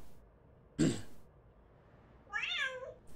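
A throat clear, then a cat meow sound effect triggered in Elite Dangerous, a short rising-falling mew about a second and a half after the gruff throat sound, both close and clear.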